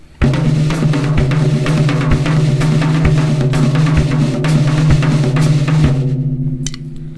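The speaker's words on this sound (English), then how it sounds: "just by playing it on the toms up here and adding it onto just a steady beat on the bottom" Drum kit paradiddle rudiment played on the toms over a steady beat on the bottom drums: loud, close, dense rhythmic hits with regular accents sustained for about seven seconds, then ringing off at the end.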